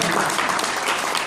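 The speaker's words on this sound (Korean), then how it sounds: "박수 한번 주시나요?" Audience applause fills a hall at a Korean community gathering in Chicago, a dense, steady wash of many hands clapping at once, loud and close throughout with no pause.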